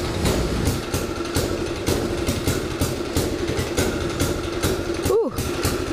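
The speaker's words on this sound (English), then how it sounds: "We're just warming up the go-kart real quick." A go-kart engine idles while warming up on a chilly day, throbbing in a steady rapid putter with slight surges, ending with a brief high squeal near the close.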